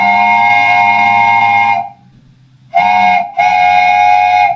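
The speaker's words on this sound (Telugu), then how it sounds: "wooden train whistle" A wooden train whistle sounds three times: a long blast, a short pause, then a brief toot and another sustained blast, loud, close and breathy-tonal, with no talking.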